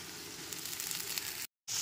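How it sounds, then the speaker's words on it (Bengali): Masala frying in a pan over a low to medium gas flame gives a steady, soft hiss of sizzling that runs evenly before a short silent gap. "গ্যাসের ফ্লেমটা এখানে লো টু মিডিয়ামে রেখে মশলাটাকে খুব ভালো করে কষাতে হবে"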